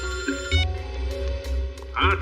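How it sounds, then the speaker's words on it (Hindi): A telephone rings in short repeated bursts indoors at an office bureau while voices talk over it. "तारिका जी का फोन।"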